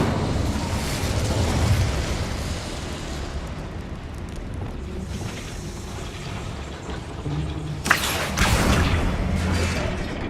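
Incendio fire spell cast in the Hogwarts Legacy video game, heard as a loud, sudden fiery burst with a sharp crackling flare against a steady rumbling game soundscape, followed by a few more bursts.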